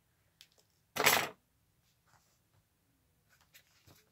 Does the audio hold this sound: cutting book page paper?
yes